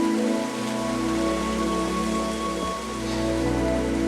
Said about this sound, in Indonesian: Tak peduli dengan derasnya hujan